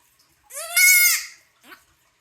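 A baby goat being bottle fed gives one clear, close bleat of about a second, followed by a short softer cry, with quiet in between.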